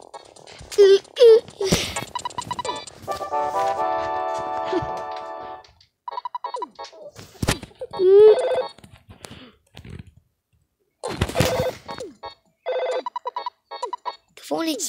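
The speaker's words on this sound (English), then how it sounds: "The phone is ringing." A telephone rings indoors in a home, its repeating electronic tones sounding in bursts, mixed with excited children's voices and chatter throughout.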